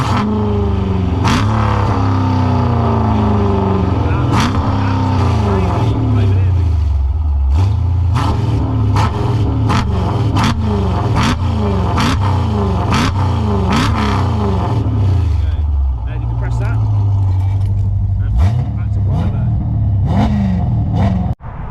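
A modified Jeep Grand Cherokee making over 500 bhp revs hard in repeated loud, close bursts, its engine note climbing and dropping in a rapid rhythm with a steady rumble underneath.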